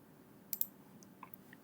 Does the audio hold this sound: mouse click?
yes